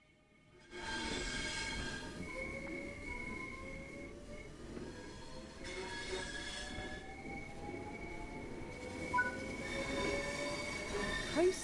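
Simulated Class 465 electric multiple unit running on rails in Train Sim World 4, a steady close rumble of wheels and traction with repeated high whining tones rising and falling, and occasional squeals, no voices.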